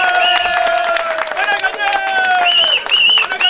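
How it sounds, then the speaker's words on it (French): Wedding guests clap together in a festive room, sharp overlapping handclaps mixed with loud voices and whistle-like tones, the clapping fairly close and irregular throughout. "Applaudissez."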